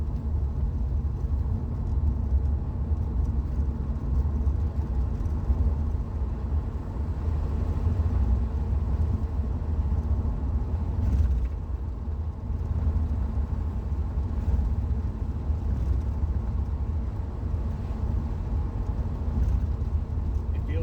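A cheap $1000 Corvette cruises on public roads, its engine a steady low rumble with road noise running continuously and evenly throughout from inside the car.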